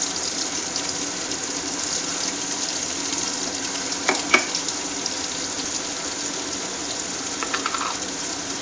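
Green chillies fry in hot oil for prawn biryani, giving a steady loud sizzle throughout with a couple of brief clinks or pops midway.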